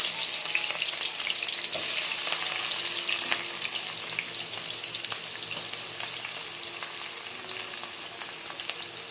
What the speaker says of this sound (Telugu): స్టవ్ మీద గిన్నె పెట్టి ఆయిల్ పోసాను. స్టవ్ మీద ఆనియన్స్ వేసేద్దాం.